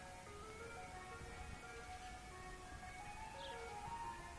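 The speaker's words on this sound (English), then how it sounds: "that's the ice cream man truck you hear in the background as the storms are moving in" Ice cream truck music plays faintly in the background outdoors as storms move in, a steady tinkling melody over constant wind and ambient noise.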